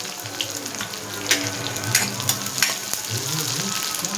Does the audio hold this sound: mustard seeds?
yes